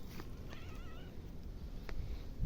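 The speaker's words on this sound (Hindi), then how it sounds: "बिल्ली आई गाइस, देखो" Cat meowing outdoors near a cowshed in Himachal at night, one short wavering meow amid low rustling and background noise.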